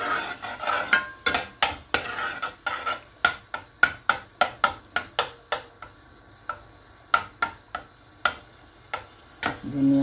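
Onions cooking in a pan for ridge gourd curry, stirred with a spatula in a long run of sharp, irregular scrapes and taps against the pan, up close, with pauses between bursts.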